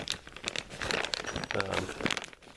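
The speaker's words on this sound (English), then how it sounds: "There's a bag full of goodies. I don't know if that's going to show up or not on video. It's a plastic bag." A plastic bag crinkles and rustles close by in quick bursts while a person talks over it.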